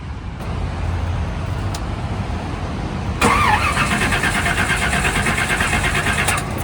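Old Chevrolet Chevelle over 50 years old, engine cranking after a fuel filter change, a steady low grinding churn of the starter that turns into a louder, busier rattling run partway through, close and continuous without talk.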